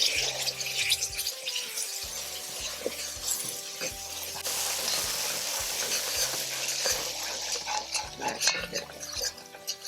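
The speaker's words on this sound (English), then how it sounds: "The curry has been frying in the oil for about 2 minutes." Curry sizzles and crackles in hot oil while a utensil scrapes and stirs the pan, with faint clinks of cookware throughout.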